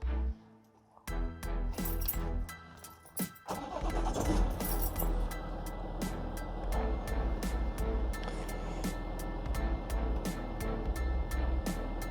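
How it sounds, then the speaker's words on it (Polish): A BMW E60 engine starts: a brief starter crank, then the engine settles into a steady, fairly loud idle with regular sharp clicks ticking over it. "i w tym momencie odpalamy sobie auto."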